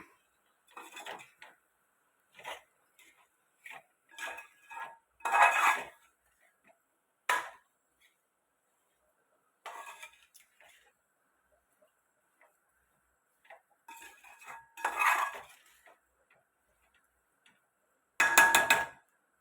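A spoon stirs gooseberry pickle with salt in a pot, giving scattered clinks and scrapes in short irregular bursts with quiet pauses between them.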